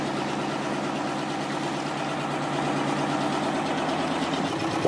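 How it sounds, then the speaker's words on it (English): Vehicle engine idling steadily up close, a continuous low rumble that holds evenly for several seconds with no voices over it. "Can you turn the engine off, mate?"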